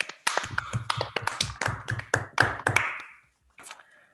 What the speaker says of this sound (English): give a round of applause to Jan